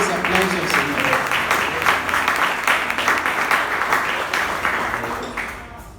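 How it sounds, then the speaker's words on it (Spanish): A church congregation breaks into loud, sustained applause for the Lord, dense clapping filling the space near and steady before fading slightly at the end, with some voices mixed in. "denle fuertes aplausos al Señor"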